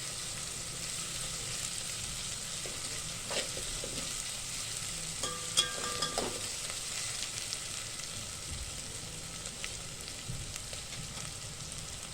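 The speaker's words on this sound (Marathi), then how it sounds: "छानपैकी आपण आता हा कांदा भाजून घेणार आहे लालसर होईपर्यंत।" Onions fry in a pan toward a reddish brown for masale bhaat, a soft, even sizzle broken by occasional scraping clicks from stirring, close and unhurried with no voices.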